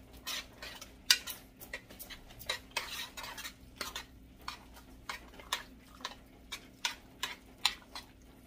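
A spoon stirs about a cup and a half of rice into a pot for red beans and rice, producing close, repeated scraping and clinking against the pot in an uneven rhythm with no talking.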